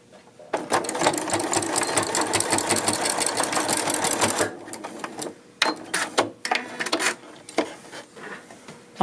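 A sewing machine runs in a steady fast stitching burst while joining the shoulder seam of a jacket, then stops and restarts in several short, sharp bursts, close and fairly loud.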